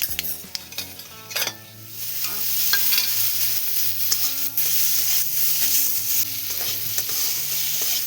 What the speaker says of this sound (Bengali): আমরাগুলো ভাজা হয়ে গেছে